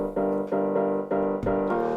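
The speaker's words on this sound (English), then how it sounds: "We've then got the piano." Single-layer piano in a vocal house track playing a short repeating chord pattern, four evenly spaced stabs at moderate volume, with nothing else heard.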